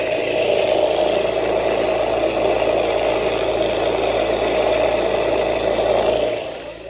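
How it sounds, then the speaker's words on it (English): A vibratory tumbler runs with a steady mechanical hum and rattle, loud and continuous with no talking, then winds down in the final moment. "This week we've got stuff going in our vibratory tumbler"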